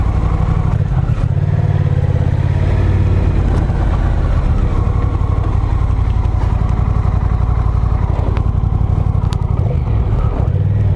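A Honda Rebel 1100 cruiser motorcycle engine running close by, a loud continuous low throbbing rumble with slight shifts in revs and light mechanical clatter throughout.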